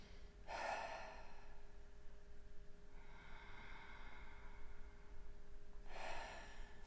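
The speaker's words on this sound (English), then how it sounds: "Just breathing easy, just taking a deep breath in through the nose," Slow deep breaths drawn in through the nose, two airy inhales with a softer exhale between, close and quiet with no talking.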